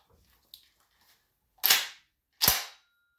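An Adler Arms A-110 12 gauge lever-action shotgun working shells into the chamber: two sharp, loud metallic clacks about a second apart, after a faint small click, with no talk.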